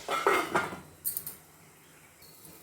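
A lid goes onto a pot of tomato coriander chutney, with a few close metallic clinks and scrapes in the first second and a half, then a quiet lull and a small tap at the end.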